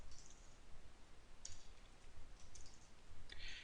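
Quiet, close clicking of keys on a computer keyboard, scattered irregular taps over soft room hiss.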